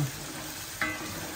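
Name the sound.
sautéing chili paste for sambal goreng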